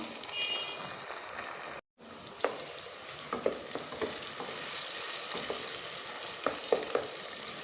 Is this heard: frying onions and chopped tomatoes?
yes